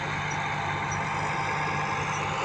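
A tractor's low, steady diesel engine rumbles continuously at close range during field soil preparation, with a constant drone and no breaks.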